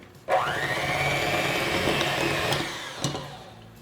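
An electric mixer whirs steadily through peppermint extract, egg and butter for chocolate mint cookie dough, a close continuous motor hum with a brief bump near the end.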